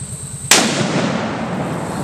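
An explosive charge detonates at a hunting camp with one sharp, loud blast, followed by a long rumbling decay and debris settling. There is no talk.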